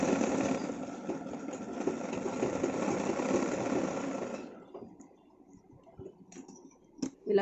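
A sewing machine stitches a seam on a chudi pant, a steady buzzing whir for about four seconds that stops, followed by quiet clicks and handling sounds.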